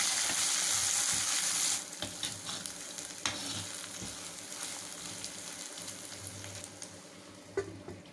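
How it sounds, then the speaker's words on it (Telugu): Dried red chillies, green chillies, sliced onion, curry leaves and crushed ginger-garlic fry in hot oil for a tempering, giving a loud steady sizzle at first that settles into softer crackling with occasional stirring clinks. "ఇప్పుడు నాలుగు ఎండుమిరపకాయల ముక్కలు, నాలుగు పచ్చిమిరపకాయ ముక్కలు, ఒక ఉల్లిపాయ ముక్కలు, కొంచెం కరివేపాకు, చిదగొట్టుకున్న అల్లం వెల్లుల్లి 2 చెంచాలు వేసి వేపాలి"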